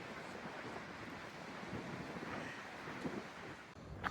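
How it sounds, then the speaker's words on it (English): Strong wind buffeting a microphone on an exposed knife-edge mountain ridge on the Appalachian Trail, a continuous roaring rush with gusty swells, loud and steady, with no voices. "I don't know if you'll be able to hear me because it's so windy."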